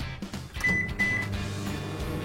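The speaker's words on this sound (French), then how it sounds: "Je mets le tout au micro-ondes pour environ 1 minute" A microwave oven hums steadily while cooking an egg cracked into a glass of water, with two short high beeps standing out over the low, quiet running drone.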